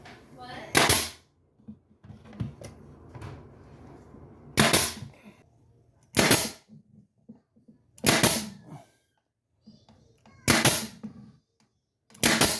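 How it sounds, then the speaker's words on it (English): Nail gun driving nails into trim on an Ikea Billy bookcase built-in, six sharp loud pops spaced one to three seconds apart, with quiet handling noise between the shots. "I'm just going to hit this with a nail gun"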